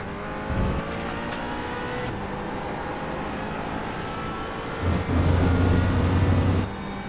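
A McLaren 570S in the iRacing game at the Catalunya circuit: a steady, loud engine drone holds at full throttle, with brief dips and a shift in pitch near the start and again late on as the car drives out of a corner.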